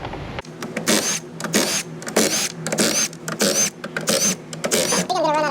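Screws being driven during a wiring repair on a Nissan NV 3500, a power driver whirring in repeated short bursts with brief pauses between, close and fairly loud, with no talk over it.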